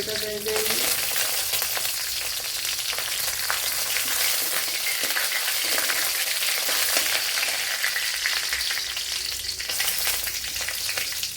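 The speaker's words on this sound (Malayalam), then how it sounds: "ഇവിടെ മുളകൊക്കെ നല്ല വഴണ്ട് വന്നിട്ടുണ്ട്" Dried red chillies frying in oil in a pan, a dense, steady sizzle and crackle that runs loud and unbroken throughout, with only a faint clatter at the start.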